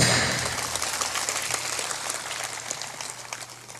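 A gathered audience at a spiritual discourse in Jhikul Sangrampur, Munger claps together, a burst of many hands that starts loud and gradually thins and fades over about four seconds.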